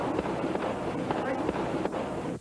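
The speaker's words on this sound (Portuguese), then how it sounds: "De dentro da casa, os traficantes respondem com mais tiros." Gunfire exchanged between police and drug traffickers at a house hideout, a rapid scatter of sharp cracks and pops over a constant noisy bed, with a voice talking over it.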